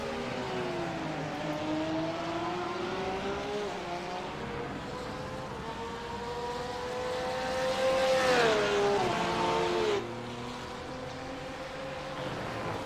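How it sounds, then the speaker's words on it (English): Porsche GT3 race cars scream past at Circuit de Jerez, their loud, rising and falling engine notes sweeping through gear changes, with one car surging closest and loudest before fading. "Harry is looking in his mirror and seeing that purple Porsche get closer and closer"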